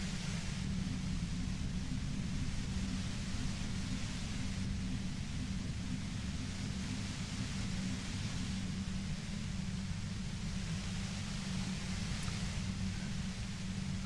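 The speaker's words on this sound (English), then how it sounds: "You hear through the white noise. It's especially bad suddenly." Steady hiss of white noise in the video game Disco Elysium, constant broadband static running unbroken throughout at an even moderate level.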